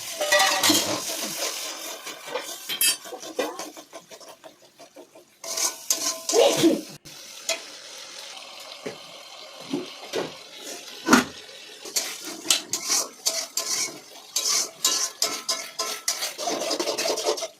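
Spices stir-fried in a pan for a home-style chicken curry: scraping, stirring and rubbing of a utensil against the pan, with intermittent clinks and sizzling scratches throughout, fairly close and continuous.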